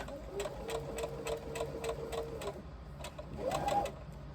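Rhythmic, evenly spaced stitching from a sewing machine working across a crossbody bag, running steadily for a couple of seconds, pausing briefly, then starting again, close and moderately quiet.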